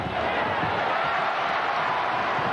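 A basketball arena crowd at a Golden State Warriors versus Orlando Magic game cheers in a steady, dense roar that holds without a break.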